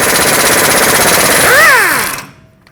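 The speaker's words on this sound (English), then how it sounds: "use a swivel socket with a power tool or break them free with a breaker bar" A power tool rattles rapidly while removing 21mm caliper bracket bolts on a 2011-2016 Ford F-350, a loud close hammering burst with a brief rising whine before cutting off abruptly.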